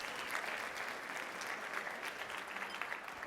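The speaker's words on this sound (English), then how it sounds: "A round of applause for Colectivo." An audience applauds the performing group Colectivo at a bilingual parents' summit, a dense, even wash of clapping from many hands that holds steady throughout, moderately distant and with no talk on top.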